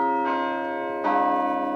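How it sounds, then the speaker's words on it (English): Krause Tower bells at Syracuse University on the hill, two strong tolls about a second apart, each ringing on with a long sustained hum, loud and close. "From high atop the SU hill, the Krause Tower's bells toll 3 times every day"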